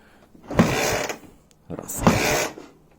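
A Dnepr MT10-36 motorcycle engine is kicked over twice after sitting idle, two separate mechanical strokes with a creaky, grinding clatter about a second and a half apart.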